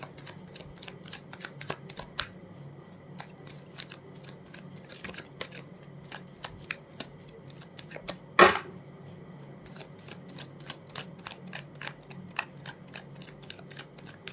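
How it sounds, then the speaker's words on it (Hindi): Tarot cards being shuffled by hand, soft rapid riffling and flicking clicks throughout, quiet and close, with one louder snap of the deck near the middle. "अब मैं इन कार्ड्स को एक बार फटाफट क्लियर कर लूँ"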